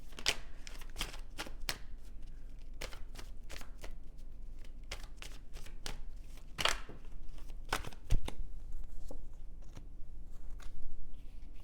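Tarot cards being shuffled by hand, a run of crisp riffling bursts and sharp slaps that stays close and steady for the whole stretch, with no voices.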